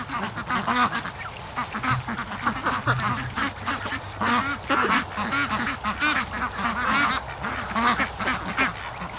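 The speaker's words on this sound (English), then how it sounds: "so that's the duckies down at the swamp here." Ducks quacking nonstop near a swamp, a dense overlapping chorus of many birds close by with repeated honking calls and no talk.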